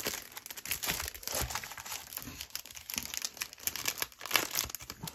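Paper from a Carta Bella cardmaking kit crinkles and rustles steadily as it is handled and unpacked, with close, busy crackling and no voice.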